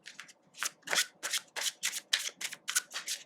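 Tarot cards being shuffled by hand in a quick series of about ten crisp riffling bursts, close and fairly quiet, with no voices.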